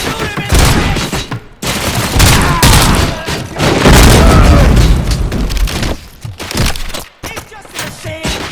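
Rapid gunfire and heavy booms from the video game Robocop: Rogue City ring out in dense, overlapping volleys, loud and close, with short pauses between bursts.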